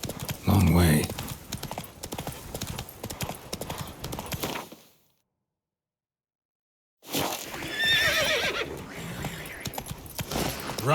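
Roach, the horse in The Witcher 3, gallops with fast, close, steady hoofbeats and a whinny, then stops for a couple of seconds of silence before the galloping resumes, with a voice speaking over it.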